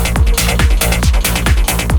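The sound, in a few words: trance track played with a synth macro on an Akai Force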